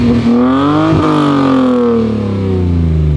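A Lexus IS300 engine revs loudly and steadily up close, its pitch climbing and dipping across several throttle blips.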